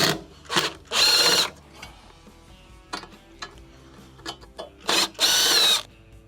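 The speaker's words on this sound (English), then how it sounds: "So let's get these 2 screws out." A power drill removes two screws from a GE dryer motor assembly, giving two bursts of loud whirring with mechanical clicks and rattles in between as the tool is repositioned.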